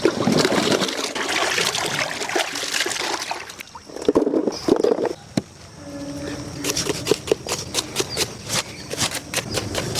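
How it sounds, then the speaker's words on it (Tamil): Onions, tomatoes and green chillies are washed by hand in water for a mutton biryani, with close splashing, trickling and sloshing that comes in uneven bursts, then lighter dripping and handling. "வெங்காயம், தக்காளி, பச்சை மிளகாய் மூணுத்தையும் கழுவி எடுத்துக்கலாம்."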